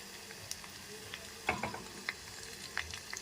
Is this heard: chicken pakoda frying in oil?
yes